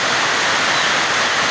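Water drips and trickles steadily from the metal roof gutter of a newly built parking shelter, a continuous close splashing hiss with no talk.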